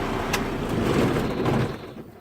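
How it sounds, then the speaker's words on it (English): A truck engine with a manual clutch rumbles loudly up close, then its noise drops away as it shuts off near the end. "turn off the engine"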